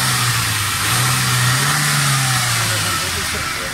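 A 2012 Suzuki Cultus car engine with a fuel pump wiring fault runs just after starting, a loud close steady hum whose pitch rises slightly and eases back down, with no other sounds over it.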